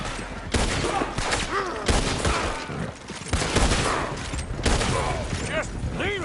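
Rapid gunfire from a Red Dead Redemption 2 shootout, with repeated loud bursts and volleys crackling almost continuously, mixed with shouting voices and game sound effects.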